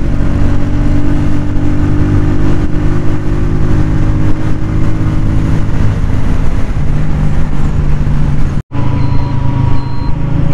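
A Honda CG 125 Special Edition motorcycle drones loudly and continuously while being ridden on the road, its engine note holding and shifting slightly in pitch, with a brief dropout near the end and no talking.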